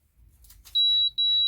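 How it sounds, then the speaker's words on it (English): After some faint rustling, a Thermal Cinch machine gives a high-pitched electronic beep twice when heating is done: a longer tone, a short pause, then another. "You heard the beep, that means it's done."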